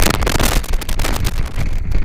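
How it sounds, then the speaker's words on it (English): Loud, blustery wind buffeting the microphone, a constant low rumble with gusty bursts throughout and no voices. "And it's very windy today."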